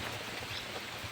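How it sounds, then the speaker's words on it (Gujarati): Heavy monsoon-style rain and wind produce a steady, fairly faint hiss of falling water, with no voices, for about a second. "આગાહી પ્રમાણે ગાઈસ વરસાદ આવી ગયો"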